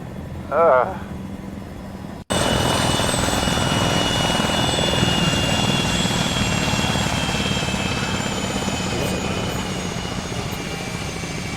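Helicopter flying in the Arma video game, its rotor and engine drone starting abruptly and then holding loud and steady, with a brief voice heard before it kicks in.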